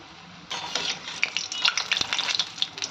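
Shrimp fritters (chingri fuluri) made with ground small shrimp and onion batter fry in oil, a dense crackling sizzle that begins after a brief quiet start and continues with scattered sharper pops, close and steady.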